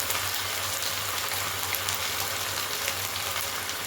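Onion with ginger-garlic paste frying in a pan for a mixed-vegetable dried shrimp dish, a loud, dense, continuous sizzle close up with no pauses.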